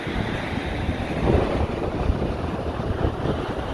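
Ocean waves breaking on a rocky shore with loose rocks, a steady, loud rush of surf and wind buffeting the microphone throughout, with no voices.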